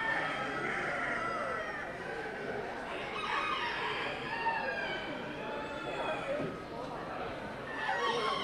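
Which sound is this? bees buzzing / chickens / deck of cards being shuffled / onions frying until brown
chickens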